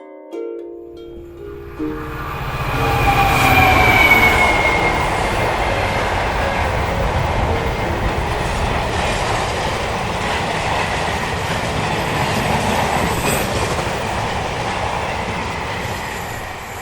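A train rolls past close by at a railway crossing beside a field, a loud steady rumble of wheels on rail with a faint squeal, building in the first seconds and holding throughout.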